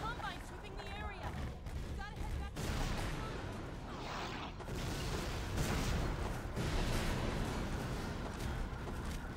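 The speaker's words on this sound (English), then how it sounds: "Some pretty big explosions." In the video game Half-Life 2, explosions and gunfire roar as a dense, continuous barrage of loud blasts and crackling shots, with people talking over the combat.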